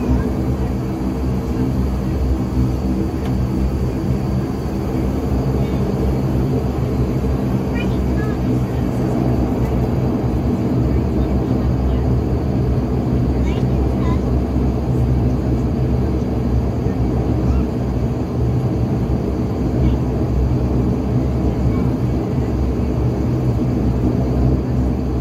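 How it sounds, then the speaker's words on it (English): Steady, loud engine and air drone fills the cabin of a Flybe Dash Q400 turboprop airliner on a night flight from Southampton to Glasgow, continuous and unchanging throughout. "So on the aircraft now, it's a lovely aircraft. It's gonna be a nice night flight"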